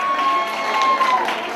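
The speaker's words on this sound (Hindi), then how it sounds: "जोरदार ताली बजा दीजिए।" An audience at a wedding sangeet cheers and claps in a loud, dense wash of crowd noise, with a voice faintly carrying over the steady applause.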